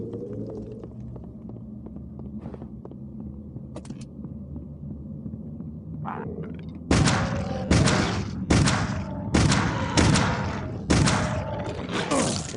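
Repeated weapon shots blast against ghosts in the video game Clive Barker's Undying, about six loud evenly spaced bursts following a quieter stretch of low droning game ambience with faint thuds.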